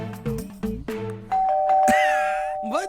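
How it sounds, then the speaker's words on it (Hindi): A doorbell at a house rings with a clear electronic ding-dong chime that sustains and fades over a couple of seconds, following a few short knocks and background voices. "हट बजा ले घंटी बजा ले।"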